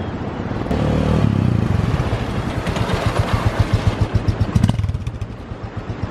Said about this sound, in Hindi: यहाँ पर हमने देखा कि BS3 के ब्रेक मारने पे कैसे स्किड मारता है टायर